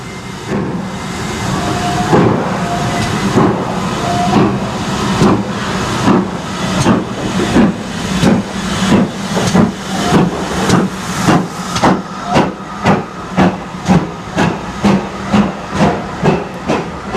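Steam locomotive Raveningham Hall departs on a Kidderminster to Bridgnorth service at a gala, with loud hissing steam under rhythmic exhaust chuffs that grow sharper and more distinct as it pulls away.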